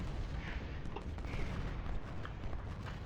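Distant, dense battlefield gunfire in the Civil War strategy game Ultimate General: Civil War, a steady rumbling roll of volleys and scattered shots with faint cracks throughout, no talking.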